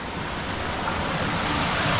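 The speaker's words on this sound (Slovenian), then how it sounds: "Evo, že brodimo do kolen." Knee-deep wading through water in the troughs of the Slavinsko grlo gorge: a steady, close, broadband rush of churning water fills the whole stretch with no let-up and no talking.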